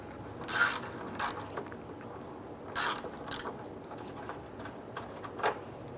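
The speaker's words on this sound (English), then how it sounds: "use a 10mm socket to remove this bolt here" A ratchet turning a 10mm socket loosens a bolt during a headlight install on a 2002-2008 Dodge Ram 1500, giving several short, quiet bursts of rapid clicking separated by pauses, with no talking.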